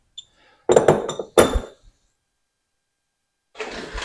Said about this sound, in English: So I'll clamp a couple of blocks in there